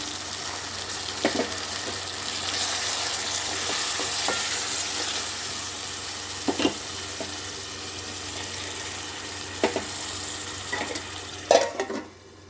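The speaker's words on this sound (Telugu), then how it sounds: "ఈ వాటర్ కొద్దిగా పోసుకుంటున్నాను." A long steady sizzle fills a hot pan as water is poured into jackfruit seed curry, with occasional utensil scrapes and clinks of stirring, close up and without voices.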